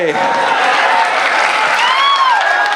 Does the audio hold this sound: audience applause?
yes